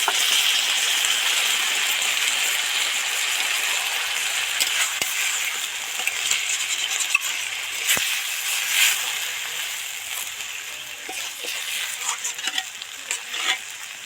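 Okra curry masala frying in oil as water is poured in, a steady hiss and bubbling sizzle with scraping stirs and occasional spoon clinks against the pan, close and continuous throughout.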